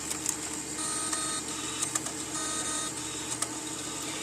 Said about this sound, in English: You can actually hear it reading